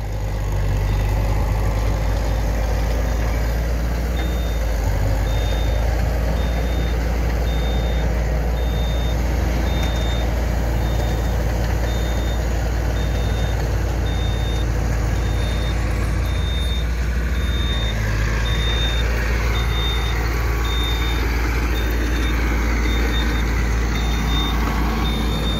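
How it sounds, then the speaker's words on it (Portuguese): Mercedes-Benz Atego dump truck tipping its bed, a steady reversing beep repeating over a loud, continuous idling diesel engine and heavy machinery rumble, close and with no talking. "Vamos ver a diferença da basculhada da caçambada do Atego e do Alfa."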